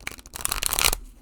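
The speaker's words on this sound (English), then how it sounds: "The rifle shuffle" A quick rifle shuffle of small tarot cards, a short burst of riffling flutter that builds and ends in a crisp close-up riffle, then stops.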